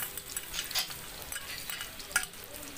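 Garlic hits hot oil in a pan for Bicol express, crackling and sizzling steadily at moderate loudness with occasional sharper pops and stirring scrapes, no voices.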